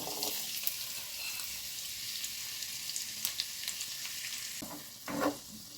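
Sausages with onion and carrot fry over high heat in a pan with a steady, bright sizzle. Occasional stirring scrapes and clinks come near the end.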